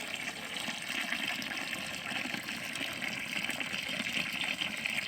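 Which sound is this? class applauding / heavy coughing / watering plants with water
watering plants with water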